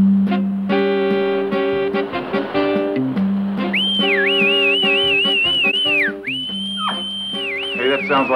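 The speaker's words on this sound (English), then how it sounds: "Hey, that sounds like Chongo's danger whistle." A warbling, sliding whistle signals danger, with repeated rising and falling tones heard loudly over a steady harmonic music bed.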